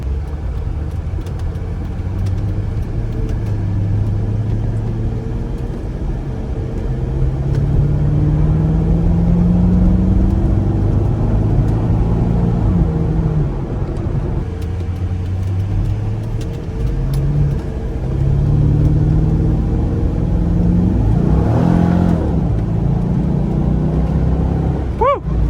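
A low-mileage 1998 C5 Corvette driving and pulling hard under acceleration, its engine note droning steadily and rising in pitch through several climbs across the run, with no talking.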